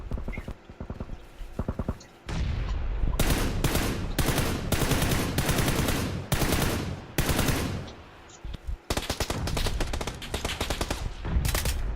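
PUBG gunfire on Xbox, with dense bursts of rapid automatic shots and single cracks fired in long rattling volleys and brief gaps, loud and close.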